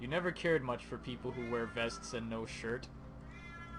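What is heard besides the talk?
house cat meowing loudly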